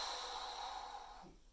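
A single deep, close inhalation drawn in during a low back reset exercise, lasting just over a second before fading out.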